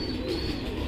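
Fancy pigeons at a farm in Natore give a short, soft low coo close by in a quiet pause, no voices.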